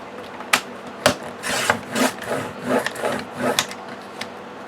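Cardstock sheets being cut along the 11 inch side with a paper trimmer, giving a series of short scraping, rasping strokes and a few sharp clicks, fairly close and clear, with no talking.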